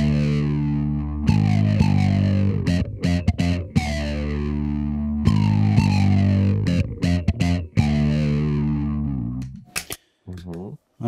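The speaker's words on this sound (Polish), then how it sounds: "A jak jeszcze dodam sobie do tego przester z innego urządzenia," Electric bass played through overdrive from an extra device, loud distorted sustained notes and chords with choppy muted stops and sliding pitch, cutting out near the end.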